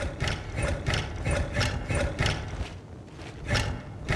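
A rapid mechanical ratcheting winds in repeated bursts, several cranking pulses in a row with short pauses, loud and close over a steady game background.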